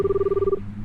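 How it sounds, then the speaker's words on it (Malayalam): A telephone gives a single short steady electronic tone that cuts off abruptly after about half a second, close and clear with no talking. "ഫോൺ"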